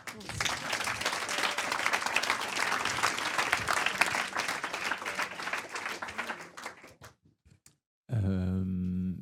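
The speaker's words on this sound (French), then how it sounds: "Vous pouvez applaudir." An audience applauds after a product pitch presentation, dense clapping sustained for about seven seconds before thinning to a few scattered claps, then a person begins speaking.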